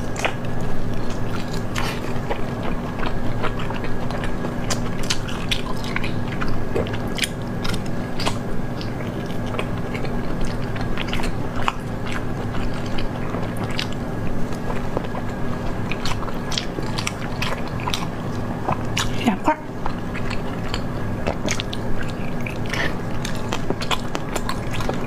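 Someone eats grilled lamb tail fat up close, producing continuous wet biting and chewing with soft crunchy clicks in an uneven rhythm, steady and fairly loud for the whole stretch with no talking.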